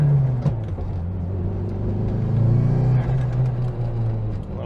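A car fitted with a new clutch drives gently around the block, its engine giving a steady, close low rumble with mild swells in revs throughout.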